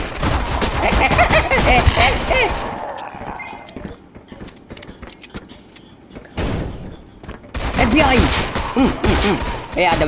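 Gunfire rattles through a zombie survival video game, dense bursts of shots in the opening seconds, then sparse scattered cracks, before heavy firing resumes toward the end, with players talking over the action.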